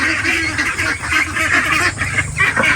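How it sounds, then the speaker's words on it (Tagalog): Ducks on a farm quack and honk in a loud, continuous chorus close by, many birds calling over each other without pause. "Kaya dagdag tayo ng mga itik."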